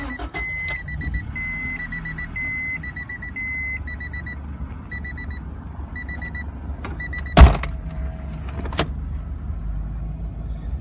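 A 1992 Acura Integra LS sedan with a 5-speed gives a run of repeating dashboard chimes, then a sharp loud burst as the engine is started, settling into a low, steady rumble.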